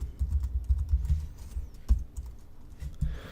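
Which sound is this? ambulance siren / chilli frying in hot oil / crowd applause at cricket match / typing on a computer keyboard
typing on a computer keyboard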